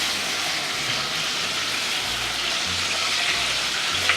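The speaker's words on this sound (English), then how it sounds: "Ooh, listen to that sizzle." A freshly baked meatloaf just out of a 350-degree oven sizzling in its pan, a steady, close crackling hiss that holds evenly throughout.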